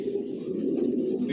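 Racing pigeons of the Johnson line coo steadily inside a home loft, a continuous low murmur of several birds layered close together, with a faint higher chirp rising briefly midway.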